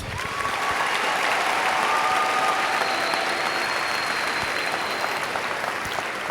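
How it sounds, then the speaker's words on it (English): A large high school graduation crowd applauds parents and families in a steady, evenly sustained wash of clapping, with faint whistles or cheers riding over it and no talk. "Give the parents and families a round of applause."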